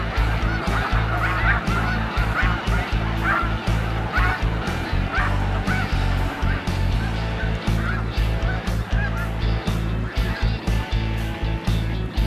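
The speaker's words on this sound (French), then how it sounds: "Donc, voilà, on va suivre les oies." A large flock of snow geese at Montmagny calls continuously, dense overlapping honking and clamoring, loud and close with a low rumble underneath and no speech.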